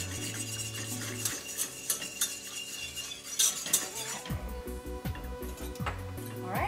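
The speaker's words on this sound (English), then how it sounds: "Actually, whisk this up a little bit. Coconut milk, when you're using the unsweetened, gets a little bit chunky" A whisk stirs unsweetened coconut milk in a bowl, quick, light metallic scraping strokes running beneath steady background music.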